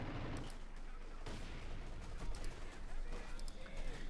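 Company of Heroes 2 battle with an MG-34 machine gun and mortars firing, a dense continuous rattle of gunfire and thuds with a commentator talking over it.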